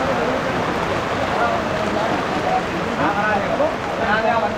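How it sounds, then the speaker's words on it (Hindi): Steady rain falling in the early morning near the Mahakaleshwar temple in Ujjain, a dense continuous hiss of drops on surfaces, loud and close throughout. "देखो बारिश कैसी चालू हो गई है"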